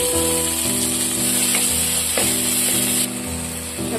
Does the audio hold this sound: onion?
yes